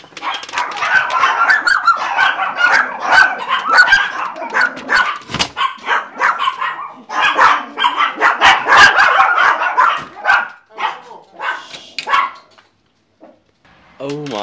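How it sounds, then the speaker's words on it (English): Several dogs bark repeatedly and excitedly at close range, dense overlapping barks and yips for most of the time before trailing off into scattered whimpers. "I think y'all heard them just now barking."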